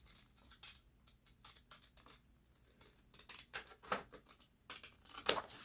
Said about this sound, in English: I am using my fabric vet scissors to cut paper.